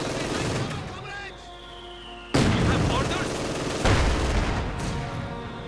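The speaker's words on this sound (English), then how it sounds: "he is under fire from the mortar and the Stu-3" Mortar blasts and machine-gun fire in a Company of Heroes battle, with the Stu-3 also involved. A rattling burst of fire is followed by two sharp, loud impacts and noisy battle din, with a commentator talking over it.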